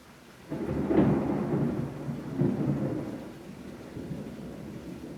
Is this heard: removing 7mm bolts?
no